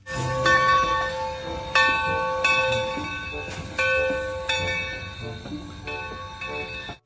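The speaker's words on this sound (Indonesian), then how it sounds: "Kereta Thomas." A Thomas toy train clatters along with a steady mechanical whir, punctuated by bright metallic chimes and ringing tones, moderately loud and close.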